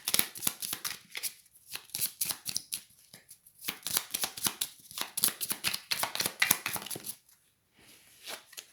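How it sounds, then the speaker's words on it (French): Tarot cards shuffled and dealt out in a quiet room, a long run of rapid riffling and slapping flicks with brief pauses, fairly soft and close, with no talking. "Et je vais poser 3 cartes."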